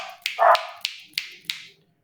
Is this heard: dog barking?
yes